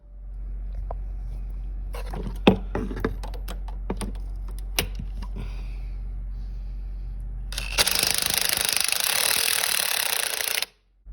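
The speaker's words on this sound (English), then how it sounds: "I'm going to use an impact wrench" An impact wrench loosens a coolant temperature sensor on a Chevy/GMC engine: a few seconds of clicking and ratcheting handling noises give way to a loud, continuous hammering buzz near the end that stops abruptly, close, with no voices.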